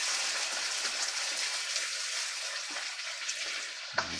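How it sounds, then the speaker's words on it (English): Shallots fry in hot oil for chili oil, a continuous close, bright sizzle with a brief utensil knock near the end. "And keep stirring it up, getting all these shallots covered."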